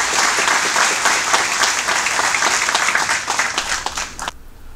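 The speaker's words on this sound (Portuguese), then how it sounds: "Uma salva de palmas." At an honorary citizenship ceremony in Crato, Ceará, the gathered audience breaks into sustained, energetic applause that carries on steadily before cutting off abruptly near the end.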